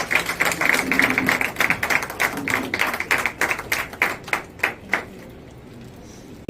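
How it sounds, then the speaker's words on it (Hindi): Guests at an award ceremony clap in honour of two women: a loud run of sharp, distinct claps that thin out and stop after about five seconds, leaving quiet. "तो मैं चाहूंगा महिला प्रधान से एक बार जोरदार दोनों महिलाओं के सम्मान में ताली हो।"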